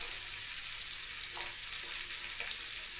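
Sliced onions frying in a pan, a steady soft sizzle and crackle with faint stirring, continuous and close, no talking.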